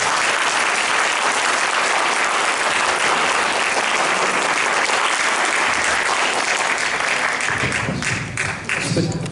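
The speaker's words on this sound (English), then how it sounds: "now will be the time you can applaud" Loud, sustained audience applause closing a first selectman candidate forum in East Haddam, a thick roar of clapping that thins near the end as a voice begins.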